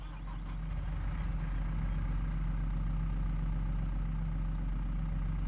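Tractor engine running in the Farming Simulator 22 video game, a steady low diesel drone with a constant hum that holds evenly loud throughout, with no talk over it.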